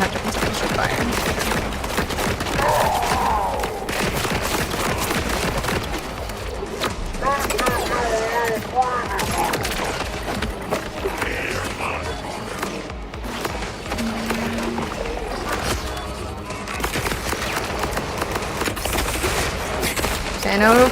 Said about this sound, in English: I know flamethrowers aren't that good on shields, but it's satisfying